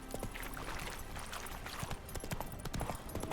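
Horse hooves clip-clop steadily on the ground in The Witcher 3: Wild Hunt, Hearts of Stone expansion, a busy rhythmic trot heard up close alongside other game ambience.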